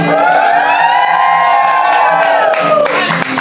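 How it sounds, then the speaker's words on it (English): A comedy show audience erupts in loud, close cheering, with rising whoops and shouts over a wash of applause that thins slightly toward the end. "give a big round of applause to the two Jonas"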